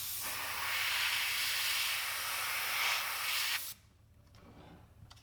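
An airbrush sprays black detail paint onto a fishing lure in a steady, loud hiss lasting several seconds, then it cuts off abruptly to a quiet room.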